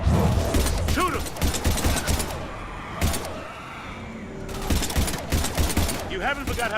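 Rapid, loud bursts of gunfire in the Mass Effect video game, heavy and sustained across the clip with a brief lull in the middle, while combat voices sound amid the shooting.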